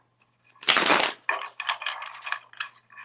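Tarot cards being shuffled by hand, a burst of dense riffling followed by several shorter crisp flurries of card edges, close and fairly loud with no voices.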